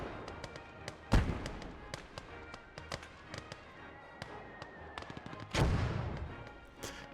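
Mortar fire in a video game: sharp explosive booms, with two heavy blasts standing out, amid scattered crackling gunfire and smaller pops, loud and close throughout.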